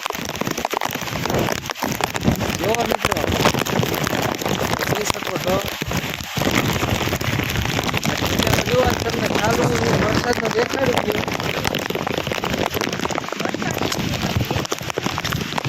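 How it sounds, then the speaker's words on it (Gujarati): Heavy rain pours down steadily in a dense, loud roar of drops hitting surfaces, continuing without pause while someone talks over it. "ઘણો બધો વરસાદ છે"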